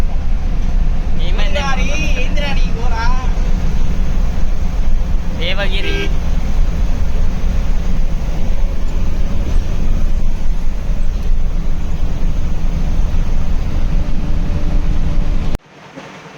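Bus travelling from Murudeshwar to Gokarna, with a steady engine drone and road rumble running throughout while people chat aboard, cutting off abruptly near the end.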